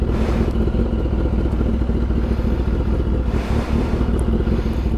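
An X-10R motorcycle on the road gives a steady engine drone mixed with heavy wind rush across the mic, continuous and loud from start to finish, with no speech.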